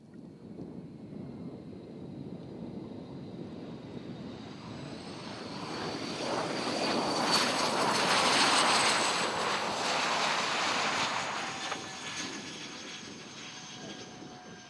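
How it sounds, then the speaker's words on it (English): Light aircraft near an active runway at Jandakot airfield during a 2003 centenary of flight event, engine drone building from a distant hum to a loud close pass around the middle, then slowly fading, with steady wind-like rumble throughout. "We made our way out to Juliet Zulu uniform near the active runway 24 right, where some aircraft were already returning."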